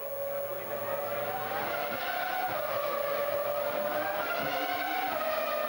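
Michael Schumacher's Ferrari Formula 1 car at the 2002 San Marino Grand Prix: a loud, sustained high-pitched engine scream that rises steadily in pitch as the car approaches, heard alone without talk.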